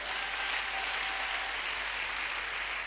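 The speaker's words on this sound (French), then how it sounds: "dont je souhaiterais que vous applaudissiez très fort." An audience applauds a pastor at a church testimony gathering, a steady, dense wash of many hands clapping that holds evenly throughout at a moderate distance, with no talking over it.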